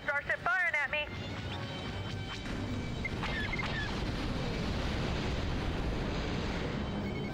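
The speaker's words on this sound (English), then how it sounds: "I've got a starship firing at me." Space combat in the TIE Fighter: Reimagined game: laser blasts and a deep rumbling roar of a starship firing, with brief sharp zaps near the start over a steady loud low-frequency drone.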